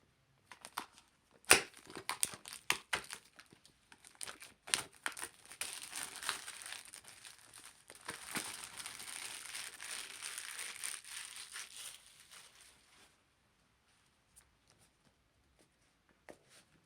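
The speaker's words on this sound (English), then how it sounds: "Just relax and hear the box opening." Unboxing a Samsung Galaxy S9 Plus: close, faint crinkling and scraping of packaging with a few sharp clicks, busiest in the middle and then trailing off into near silence, with no talking.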